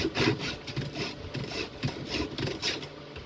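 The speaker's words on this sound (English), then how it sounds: "it might sound like I'm filing going backwards, but I'm only putting pressure on the forward files" Rhythmic rasping strokes of a Stihl 2-in-1 file sharpening a chainsaw chain, repeating back and forth steadily at close range, with no voices.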